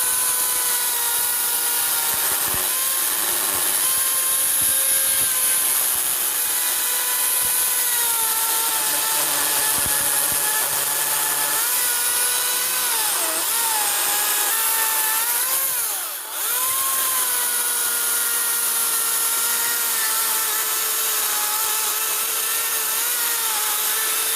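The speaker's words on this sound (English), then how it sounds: "you hear the saw does bog down a little bit, but I'm putting some muscle to it" A battery-powered chainsaw cuts steadily into wood during carving, its high electric whine running loud and continuous, bogging and dipping briefly under load before recovering, with no talk.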